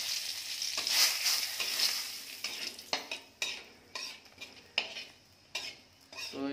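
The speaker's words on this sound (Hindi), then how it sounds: "तो इसको थोड़ा जो है फ्राई कर लिया है" Bay leaf and black cumin frying in hot oil in a pan, a bright sizzle at first, then repeated clanks and scrapes of a metal spoon stirring against the pan at a loose, uneven rhythm, close and clear, with no speech.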